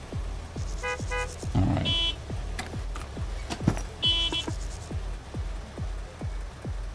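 Car horns honking in a Gas Station Simulator game: short electronic toots and beeps in scattered bursts, over a steady run of regular clicking ticks, with a brief spoken word.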